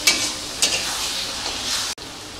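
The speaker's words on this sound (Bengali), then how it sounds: "মশলাটা ভালো করে কষে নিতে হবে।" Spice paste stir-fried in a pan for a mutton lung curry gives a loud, close, bright hissing sizzle, with scraping stirs at the start and again shortly after, then a brief cut near the end.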